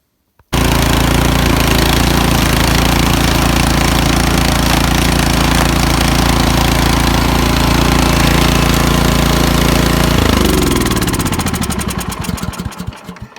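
A snowblower engine running after an auger belt change: a loud, steady small-engine roar that holds for about ten seconds, then winds down into slowing chugs as it shuts off, no talk.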